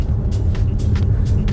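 Another car passes on a dirt road, heard from inside a moving vehicle as a continuous low rumble with soft gravelly whooshes rising and falling over a second and a half.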